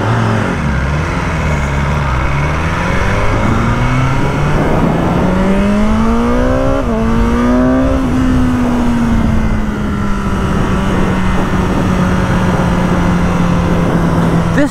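A 2022 BMW S1000R motorcycle on a test ride pulls hard through the gears, engine note climbing and dropping with each shift, loud and close over constant wind rush, no talking.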